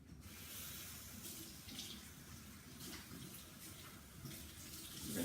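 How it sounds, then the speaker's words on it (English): A lid is rinsed under a running kitchen tap, with steady water hiss and splashing throughout and brief louder splashes near the end, heard up close with no talking. "Rinsing the lid."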